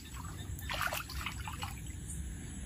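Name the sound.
floodwater trickling under the veranda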